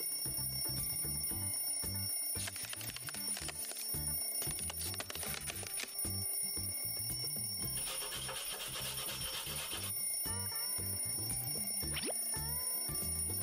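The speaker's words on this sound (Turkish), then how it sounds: "Çalar saatin bir iglonun içine sıkışmış." An alarm clock trapped inside an ice igloo rings in rapid, insistent bursts with brief pauses, bright and metallic, set against a busy musical backing across the whole stretch.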